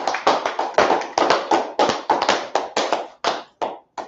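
A small group clapping for a class in a Harlem meeting hall; about a dozen or more sharp, close, slightly irregular claps over a few seconds, thinning out toward the end, with no talking.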